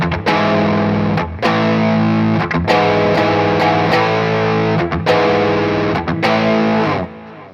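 Heavily distorted electric guitar power chord with an added pinky note, strummed in loud sustained bursts with short chopped gaps, thick and close with chorus-like effect.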